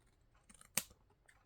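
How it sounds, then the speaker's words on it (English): A single sharp snip of scissors trimming paper at a craft table, close and crisp, with faint room noise around it. "You can just trim that off."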